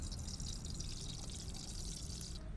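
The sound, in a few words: pouring soybean oil into pan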